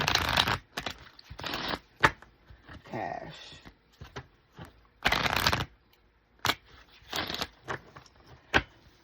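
Oracle cards being shuffled make several quick papery riffling bursts, close and moderately loud, between short pauses, with a brief spoken word in between.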